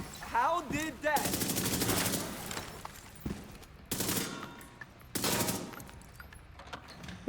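Submachine gun fire in a video game: several loud, rapid full-auto bursts up close, each lasting about a second, with a short voiced sound at the start and quieter game noise between the bursts.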